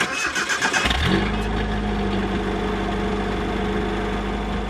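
A Nissan D21 pickup engine cranks briefly, catches within about a second and settles into a steady, loud idle close by with a low rumble, and no one speaks.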